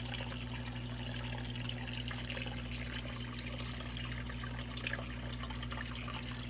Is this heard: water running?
yes